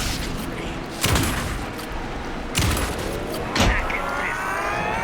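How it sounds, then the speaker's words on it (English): Gunfire in the video game Alan Wake 2, three sharp shots spaced about a second apart, standing out against a dense, loud background of game ambience and effects. "Anderson, pin him down with gunfire for me to get the light on him."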